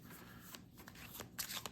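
Jungo playing cards are shuffled by hand in a quiet room, giving a soft riffling flutter that builds into a brighter, quick burst of card slaps near the end.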